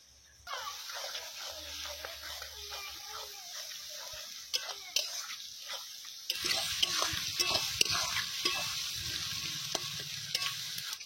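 Ginger garlic paste being stirred and fried with onions and tomatoes in a pan, a steady sizzle that swells louder partway through as the paste hits the oil, with spatula scrapes and brief voices in the background.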